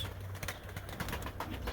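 A flock of tumbler pigeons lands on its target, giving soft low cooing and brief wing flutters close by over a short stretch.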